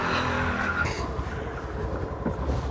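A Honda Dio scooter rides along with a steady, close engine and road rumble mixed with wind noise. The sound stays continuous throughout, and nobody talks over it.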